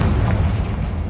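Confringo blasting spell in the Hogwarts Legacy video game, heard as a single heavy, close boom with a dense low rumble that holds loud and steady for about a second.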